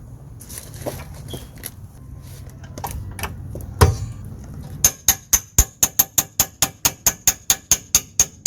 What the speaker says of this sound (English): So now I'm gonna drive the bolt through.